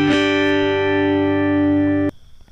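A single guitar chord through a Cube Baby AC pedal's acoustic impulse response rings out bright and sustained with a slightly processed, roomy tone, then is cut off abruptly, followed by faint handling noises.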